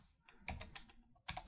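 Quick close keystrokes on a computer keyboard typing a terminal command on Linux, a rapid cluster of clicks, a pause, then another burst.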